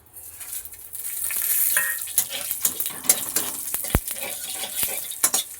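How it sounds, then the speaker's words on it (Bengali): Bay leaf, dried chili, cardamom and cumin crackle in hot oil as tempering spices, with sizzling bursts, utensil clinks and stirring scrapes against the pan, and one sharp knock near the middle. "তেলে দেব ফোড়ন তেজপাতা শুকনো লঙ্কা একটা এলাচ ফাটিয়ে নিয়েছি আর একটু জিরে"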